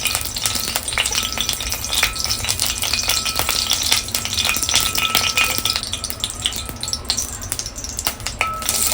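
Hot oil crackles and spits in a pan at home, with a dense, loud, continuous sizzle and faint clinks of stirring throughout, and no voices.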